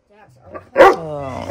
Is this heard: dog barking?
yes